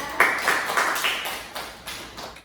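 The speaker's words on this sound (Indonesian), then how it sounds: "Silakan beri tepuk tangan untuk Rita" Students in a classroom clapping for a classmate, several rhythmic bursts of group claps in a regular pattern, moderately loud in a small room and fading out at the end.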